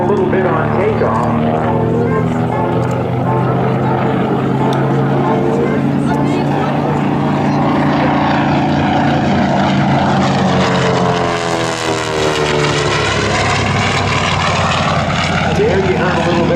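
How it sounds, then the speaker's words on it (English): A TBM Avenger propeller aircraft roars past at an airshow, its propeller tips buzzing loud and sustained as they go supersonic, while an announcer talks over the engine noise. "There you heard a little bit of that mini sonic boom from the propeller tips."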